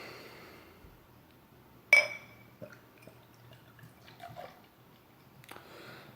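Arrogant Bastard bourbon barrel aged beer being poured from a bottle into a glass, quiet gurgling liquid with a sharp clink at the start and a few soft knocks, close and faint.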